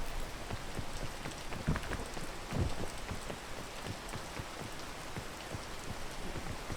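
Steady rain falling in the climbing video game PEAK, a dense, even patter of drops on surfaces with a few slightly louder splashes, continuous throughout and with no voices.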